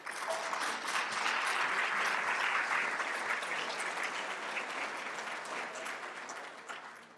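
Audience applause for a speaker introduced at a university lecture on consciousness, a steady full round of clapping from a sizeable crowd that holds for several seconds and slowly thins toward the end.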